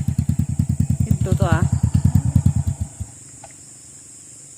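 A motorcycle engine runs on a muddy road with a loud, steady, throbbing idle for about three seconds, then stops, leaving quiet background; a voice speaks briefly over the engine.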